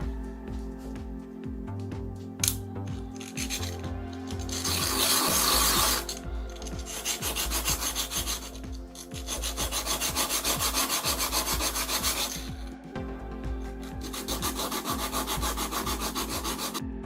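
Close sanding of a wooden piece for a craft project: repeated rough scraping strokes in bursts, with short pauses between passes.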